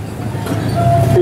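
Safari ride train rolling along its rails, a steady continuous rumble with a faint squeal rising near the end, close and moderately loud with no talk.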